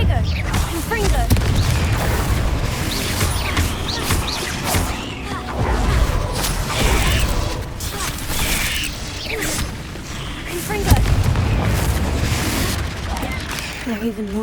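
Bombarda and Confringo spell blasts in the Hogwarts Legacy video game burst in a dense, loud stream of booms, crackles and rumbling impacts, layered with game combat noise and spoken spell incantations.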